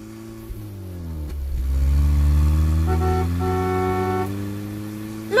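A car passes nearby, its engine note rising and swelling as it approaches, then thinning out, with a second harmonic engine whine climbing briefly toward the end.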